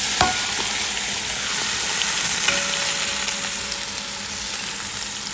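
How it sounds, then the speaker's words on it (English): Tomatillos and tomatoes frying in oil in a pan over medium heat, a dense continuous sizzle with small crackles and pops, close and steady throughout, no talking. "And now we're gonna add in our tomatillos, those cooking, and our tomatoes."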